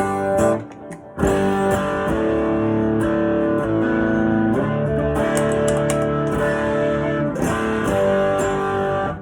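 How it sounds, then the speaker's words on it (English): Electric guitar played through a Rat-style distortion pedal set to low gain on a praise and worship pedalboard, sustained chords and notes ringing with a gritty, saturated tone, loud and up close, no talking. "the distortion. Like I said, it's kind of like a Rat sound."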